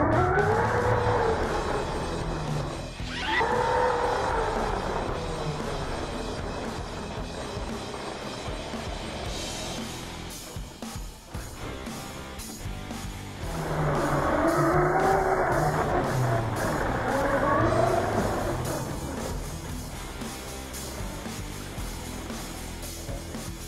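A Team Losi LMT monster truck on a 4S battery running on powder sand, its electric motor whining up and down in pitch as it speeds, with a quieter stretch between two loud, revving runs.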